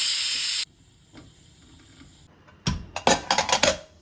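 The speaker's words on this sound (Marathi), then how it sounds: "कुकरमध्ये 3 शिट्ट्या काढून घ्यायच्या." A pressure cooker boiling mung beans in salted water releases a loud, steady blast of steam hiss that cuts off abruptly, followed by a few sharp clattering bursts of metal.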